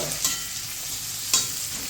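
Onions sizzling in oil left over from frying pointed gourd, a steady hiss with two sharp spatula taps against the pan, close and alone.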